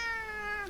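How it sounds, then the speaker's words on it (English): A house cat gives a single drawn-out meow, close and clear, with a slight upward curl before it fades, and no other sound around it. "Cat says hi, by the way."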